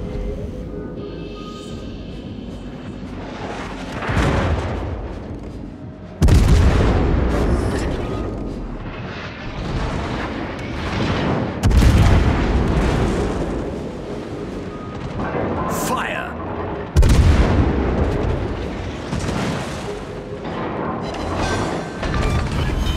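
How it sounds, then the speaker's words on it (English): Warship naval gunfire in World of Warships, repeated heavy booming salvos roughly every five to six seconds, each a loud broadband blast with rumbling decay, over continuous wind-like background and game effects. "Concentrate fire on that enemy warship."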